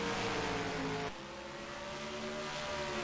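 Loud, steady engine roar of Outlaw Late Model race cars at New Smyrna Speedway, with a sharp shift in pitch partway through as a car passes, no talking.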